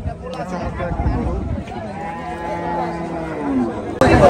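Cattle and livestock low and bleat amid busy crowd chatter at the Hazratpur cattle market in Bangladesh, a loud, continuous outdoor din with people talking throughout.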